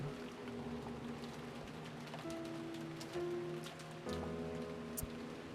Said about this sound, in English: And it was raining this hard too.